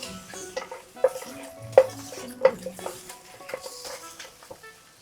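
Pieces of pork rib sizzle quietly in a pan, with sharp clinks and scrapes of utensils against the metal.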